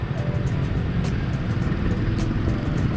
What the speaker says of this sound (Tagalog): Medyo traffic na agad.